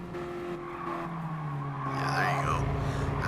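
Race car in the Gran Turismo video game: a steady engine drone with a rising and falling pitch and tire squeal as the car takes a corner, with a faint voice underneath.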